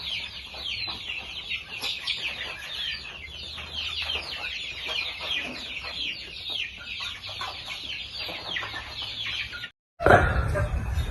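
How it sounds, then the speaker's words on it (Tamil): Many native-breed chicken chicks cheep and cluck together in a constant high chatter, close and busy, ending with a louder burst of noise. "எல்லா நாட்டுக்கோழி குஞ்சு ப்ரீடுக்காண்டி வச்சுருக்கோம்"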